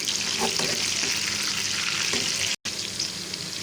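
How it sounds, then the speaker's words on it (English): Kofta egg balls fry in a pan with a steady, close, continuous sizzle and crackle that runs throughout, with no talk. "we will fry it until brown"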